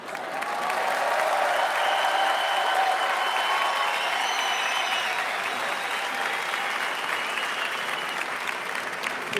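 Audience at a live stand-up comedy show clapping in sustained, dense applause that holds steady for several seconds, with no one speaking over it.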